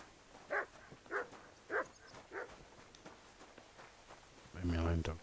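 A dog barks at a steady pace, four or five times, in the medieval game Kingdom Come Deliverance 2, somewhere around a village neighbourhood. Faint footsteps are heard under the barking, and a voice speaks at the end.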